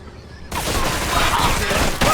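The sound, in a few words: gunshots in a video game (Mafia Trilogy)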